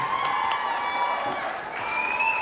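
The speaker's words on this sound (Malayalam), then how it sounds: "Please give a big round of applause." A crowd applauds and cheers after a dance drama performance, a dense wash of clapping and shouts heard from within the audience, with a tonal hum running through it.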